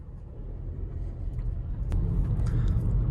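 A 2021 Audi A3 Sportback 1.0 TFSI with 110 hp pulls away in dynamic mode, its engine rumbling low and steady inside the cabin and rising slightly as it moves off.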